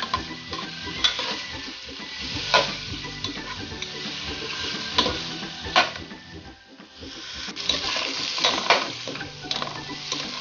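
Food sautéing in a pan, a continuous sizzle broken by repeated scraping stirs and occasional utensil clicks against the pan, close and moderately loud with no speech.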